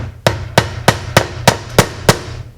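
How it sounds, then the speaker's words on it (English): Seven sharp hammer blows land at a steady, even pace, each a crisp metallic strike over a low background hum. "Being a normal hammer."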